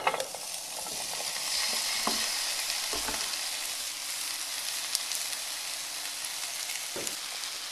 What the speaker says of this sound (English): we got the pan heated back up and we're going to throw in the vegetables